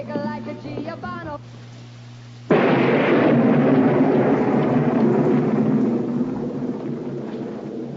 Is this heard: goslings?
no